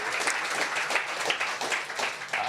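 Short burst of audience clapping at a coding bootcamp demo day in London, dense and steady, with little talk over it.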